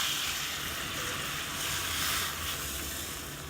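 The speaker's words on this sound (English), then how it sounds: "we're going to add a little bit of water to deglaze the pan" Water hits a hot pan of lamb curry to deglaze it, giving a steady, close hissing sizzle that fades slightly toward the end, with no voices.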